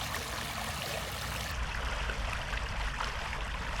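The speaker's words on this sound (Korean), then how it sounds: "여기 지금 물소리가 조금씩 나거든요." Stream water trickles steadily in a continuous bubbling, gurgling wash, close and fairly loud, with a low rumble joining halfway through and no speech.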